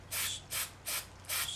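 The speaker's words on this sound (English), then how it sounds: "you want to spray straight down" Four short bursts of aerosol spray paint, each roughly a quarter second, hissing close by onto miniature conifer trees, separated by brief pauses with no talking.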